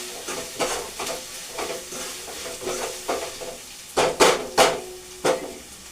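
Onions, ginger, garlic and green chillies frying in a pan while being stirred with a spoon: steady close sizzle broken by rhythmic scraping strokes and a few sharper clacks against the pan.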